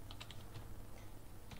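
Keys on a computer keyboard clatter faintly as a command is typed into a Linux terminal, with a few quick taps against a steady background hiss.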